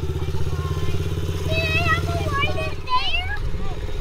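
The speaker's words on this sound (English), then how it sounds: "Give it a rev. It's not in gear, so it's okay." A motorcycle engine running out of gear, a close, steady pulsing idle with a short rev, under overlapping voices of adults and children.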